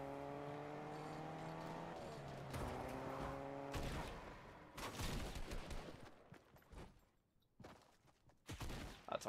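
Gunshots in a Fortnite match, several sharp cracks spread across the clip with short gaps between them, mixed with tonal game sounds and background effects.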